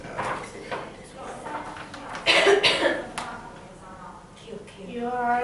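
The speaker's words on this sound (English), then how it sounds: "You're coughing." Several short coughs in a busy room, separated by brief pauses, with voices and movement noise around them.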